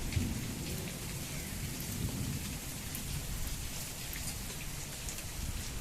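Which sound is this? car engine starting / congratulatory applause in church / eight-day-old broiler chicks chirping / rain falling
rain falling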